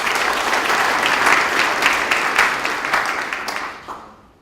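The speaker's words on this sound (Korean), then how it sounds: "자, 이 네 분께 뜨거운 박수 부탁드리겠습니다." Sustained applause from a large audience at an anniversary ceremony, steady and dense, slowly fading out over the last second.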